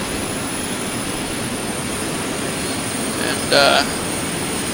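Aircraft engine in the Microsoft Flight Simulator X game during climb-out after takeoff, a steady broad engine roar filling the clip, with a short spoken word near the end.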